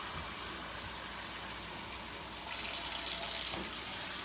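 Water from a tomato sauce can is poured into a pot of Spanish rice, a soft, steady splashing that swells briefly louder for about a second before easing off, quiet throughout.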